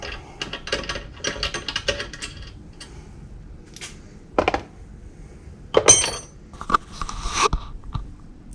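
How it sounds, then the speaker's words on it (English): A hand wrench ratchets while loosening a part, quick bursts of clicking pawl ticks in uneven runs, close and moderately loud, with a few sharper clinks between. "Grab my wrench."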